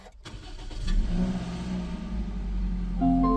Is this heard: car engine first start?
yes